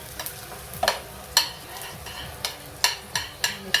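A flipped vegetable tortilla cooks in a pan under a steady crackling sizzle, with repeated sharp spatula taps and scrapes arriving in quick, uneven bursts.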